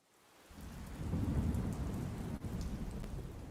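Thunder rumbling over steady heavy rain in a played digital story, a loud low roll building after a quiet start and sustained throughout, with no voices.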